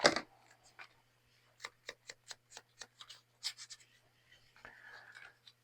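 A postcard being cut down with scissors for a junk journal, a run of crisp, evenly spaced snips close by at a steady rhythm, followed by light paper rustling and handling, with no talking.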